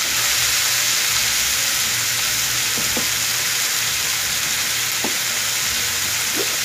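Chicken frying in a pan for ginataang manok, a loud, constant close sizzle with a few faint utensil clicks.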